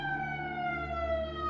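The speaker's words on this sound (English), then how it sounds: "Then police sirens sounded from the street" Police siren wailing from a street at night, a steady, distant-sounding tone sliding slowly downward, faint and continuous with no voices.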